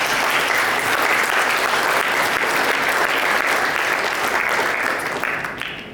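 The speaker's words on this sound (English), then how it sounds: "round of applause" Audience at a formal dinner gives a sustained round of applause, loud dense clapping that holds steady for several seconds and then begins to taper off at the end.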